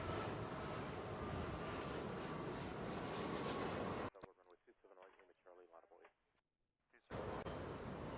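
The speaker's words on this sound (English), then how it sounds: "This is Flight 778. Coming in from DC in an Embraer E175LR." An Embraer E175LR jet arriving at Atlanta from DC gives a loud, broad engine roar that cuts off midway to quieter background noise and then returns, with talk faintly in the lull.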